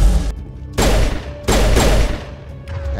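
Turret gunfire in the game Mass Effect, heard as two loud, broad bursts of rapid shots separated by brief pauses, with a third quieter burst starting at the end.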